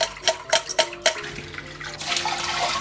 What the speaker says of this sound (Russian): Сольем воду